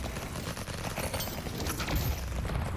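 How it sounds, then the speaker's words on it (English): Steady gunfire fills a fast shooting sequence in the VR game Vertigo Remastered, a dense, continuous barrage of shots at a constant loud level. "As soon as you get this train, start shooting at these guys, because they can kill you."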